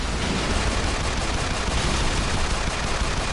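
Mech weapons fire nonstop in the game Vaporwave & Mecha, a dense, loud, unbroken roar of rapid shots and blasts that fills the whole stretch without pause.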